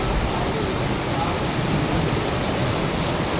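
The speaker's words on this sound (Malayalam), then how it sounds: "നല്ല മഴ കേട്ടോ" Heavy rain pours steadily in Slovenia, a dense, even hiss of drops on surfaces that stays constant and close throughout, with no clear voices over it.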